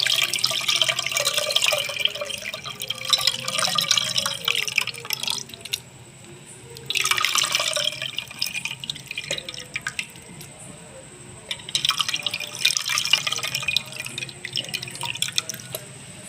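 Water trickles and drips steadily into a container in three bursts as tamarind pulp is squeezed and strained, with quieter gaps of fainter dripping between them, close up.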